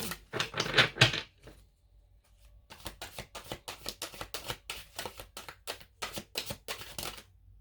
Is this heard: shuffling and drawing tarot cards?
yes